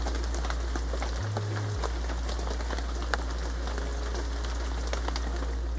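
Steady artificial rain patters down in a dense, hissing wash inside an indoor rainforest at Biosphere 2, continuous and close, with scattered louder drops tapping through the downpour.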